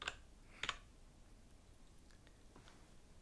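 Soft keystrokes on a computer keyboard, a couple of sharper clicks standing out including a firmer key press, quiet and close in an otherwise hushed room.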